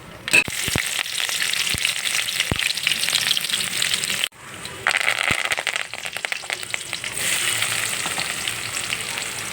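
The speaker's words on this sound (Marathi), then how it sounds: "आता मी मोहरी टाकून घेते" Mustard seeds hit hot oil in a kadhai, sputtering and crackling loudly and continuously at close range, with a brief break midway and a few sharp pops and spoon knocks.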